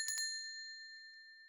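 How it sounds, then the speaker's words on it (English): A dog rings a small bell: two quick dings, followed by a clear ringing tone that lingers and fades slowly in a quiet room. "my dog is ringing for sure now"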